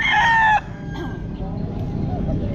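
A rooster crows loudly and close at a Bocaue pet market, its call breaking off abruptly after about half a second, followed by steady market crowd murmur and faint background chatter.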